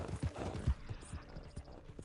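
Horse hooves clip-clopping at a fast gallop in Red Dead Redemption II, a steady rhythm of close, punchy hoofbeats with a faint whinny, no talking over it.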